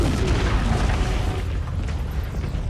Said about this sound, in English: The shot hits, the ship blows up